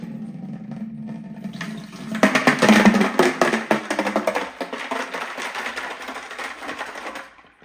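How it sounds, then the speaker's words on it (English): Seasoning brine pours from a tilted container into a brining bucket for a turkey breast, a steady splashing gush that swells loud then tapers off, with no talk. "I'm gonna tilt it a little bit because pouring out of these things is always an adventure."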